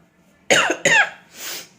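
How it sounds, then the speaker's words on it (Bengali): Two sharp, loud coughs from a person with an ailing throat come close together, followed by a softer breathy exhale, in a quiet room. "আমি যতবারই কাশছি না জোরে"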